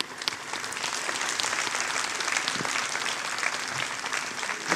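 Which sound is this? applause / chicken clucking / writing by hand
applause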